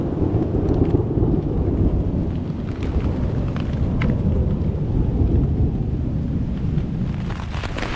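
Heavy rain pours steadily in a Philippine jungle, a dense continuous roar with low rumbling thunder rolling through it, loud and close throughout with no voices.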